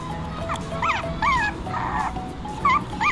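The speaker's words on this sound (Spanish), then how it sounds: "pero mira Cookie, como ladra, qué lindo" Nearby, a small pet dog yips and whimpers in a quick run of high-pitched barks, several short bursts in a row amid park background noise.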